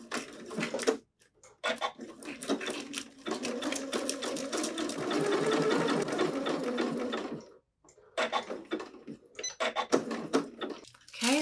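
A sewing machine stitches a shoulder seam with a 3/8-inch seam allowance, running in steady rapid bursts separated by brief pauses, close and clear.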